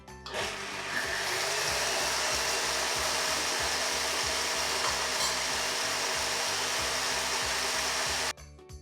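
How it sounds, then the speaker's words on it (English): A stand mixer whisks eggs with sugar, producing a loud, continuous motor whir with a steady rhythmic beater chop throughout before cutting off near the end, with no talking. "my stand mixer now and I'll whisk it up with my sugar"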